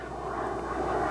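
A model F-100 jet making a flyby pass, a steady broad engine roar that holds even and slowly swells a little, with no voices over it.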